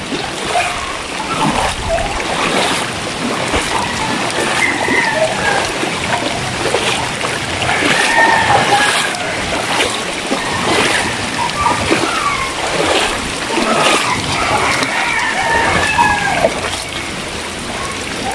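Floodwater surges and splashes through a flooded piggery farm, a loud, continuous rush with repeated sloshing bursts and trickling, close by and steady throughout.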